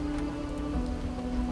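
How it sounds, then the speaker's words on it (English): Rain in the video game Project Zomboid, a steady dense hiss of falling drops with a constant low hum beneath it, no speech. "Oh god, it's raining out anyway."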